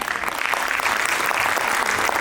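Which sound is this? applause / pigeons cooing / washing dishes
applause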